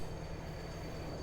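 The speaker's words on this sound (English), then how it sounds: "Slow down, train, slow down." A continuous hissing rush of a train braking in the video game Farming Simulator 22, with a faint high whine like wheels squealing, steady and moderately loud.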